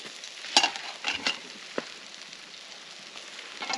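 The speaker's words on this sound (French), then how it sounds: "c'est la cuisson du steak" A steak sizzles and fries over a camp stove on a canoe-camping trip, a close, steady crackling hiss broken by sharper spits and pops from the meat.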